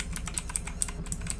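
Rapid clicky keystrokes on a MOTOSPEED Inflictor CK104 mechanical keyboard with Outemu Blue switches, a quick steady run of sharp, close clicks typed at a normal pace.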